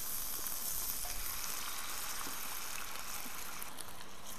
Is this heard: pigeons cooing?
no